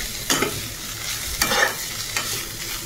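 Paneer cubes and momo filling stirred in a frying pan, with a few distinct scraping strokes of the spoon over a soft, steady sizzle, close and moderately loud.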